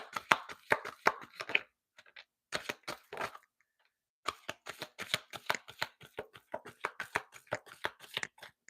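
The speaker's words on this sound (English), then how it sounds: "Let's pull some crystal cards" Crystal oracle cards shuffled in rapid papery bursts, with a brief pause before the riffling and flicking of cards resumes, close and fairly loud, no voices.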